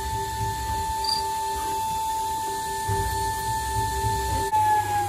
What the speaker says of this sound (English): the machine is automatically opening each hole